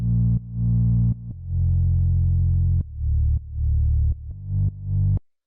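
A deep, bass-guitar-style synth bass built in Ableton's Operator plays a run of about eight sustained notes of varied length, close and alone, with hard attacks and a clean stop at the end.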